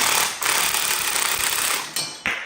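Nut spun off the front shaft of a Kawasaki Mule 4010 4x4 SE with an impact-type power tool, a loud continuous rattling buzz lasting over two seconds with brief dips, heard alone up close.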